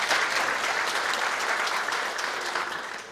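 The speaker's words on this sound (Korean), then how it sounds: "박수 한번 부탁드리겠습니다." An audience at an Icheon city seminar on the illusion industry breaks into steady, dense applause, many hands clapping indoors at even loudness before tapering slightly at the end.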